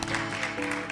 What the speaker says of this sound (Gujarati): તો આપણે સ્વામીને પણ તાળી વાદનથી થેન્ક યુ કહીએ.